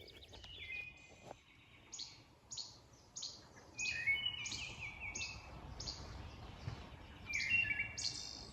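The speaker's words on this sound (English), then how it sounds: "Oh, northern parula." Northern parula singing a run of high, buzzy rising notes repeated several times, moderately distant over a low ambient wash of marsh background.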